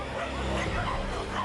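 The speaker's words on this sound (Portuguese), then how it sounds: "Gilmar ouviu o latido de muitos cachorros perto da casa dele." Several dogs bark and yip together outdoors near a house, a dense overlapping burst of barking in a short, noisy stretch.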